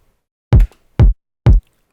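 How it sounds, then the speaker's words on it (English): Punchy electronic kick drum sample with distorted top end, struck four times at an even, steady pace, each hit loud, close and booming with a short decay, alone with no talk. "It's pretty punchy. It has even some distortion on the top end to help cut through the mix"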